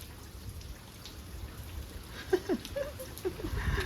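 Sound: rain falling

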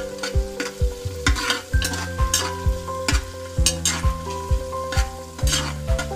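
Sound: frying crushed green chillies in a pan for vegetable pulao

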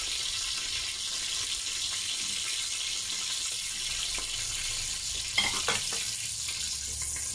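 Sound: food frying in a pan

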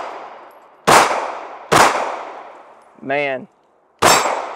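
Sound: pistol shots fired, aimed with a SOUSA micro red dot sight

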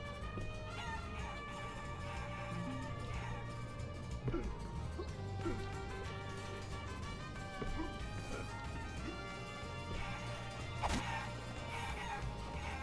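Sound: chickens clucking in the video game Guacamelee

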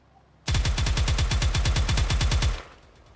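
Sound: turret gunfire in Harbor Havoc video game

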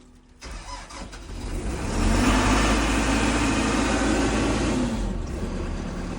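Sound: DTZ 1204 120-horsepower tractor engine running

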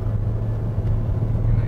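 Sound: Mitsubishi Xpander 1.5 engine climbing steep slope

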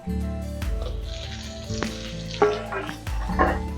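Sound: fish head frying with onion and garlic in pan

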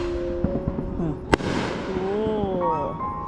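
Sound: fireworks exploding on July 4

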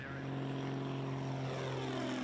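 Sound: small propeller airplane flying overhead

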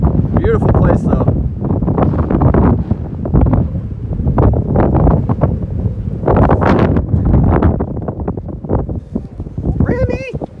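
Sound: strong wind blowing into microphone

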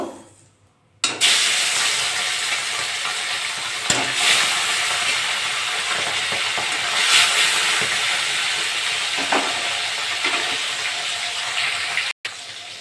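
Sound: fish frying in hot mustard oil

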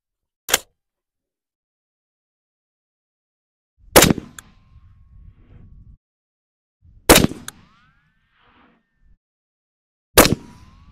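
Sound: 308 AR rifle shots fired at 50 yards

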